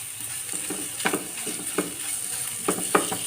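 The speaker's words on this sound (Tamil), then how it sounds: "இந்த மிளகாய் தூளில் கொஞ்சம் நல்லா வதங்கிக்கிறட்டும்" Mutton frying in a pan with chili powder for pepper curry leaf mutton chukka, a constant sizzle under repeated rhythmic stirring clicks and scrapes, near and clear, with no speech.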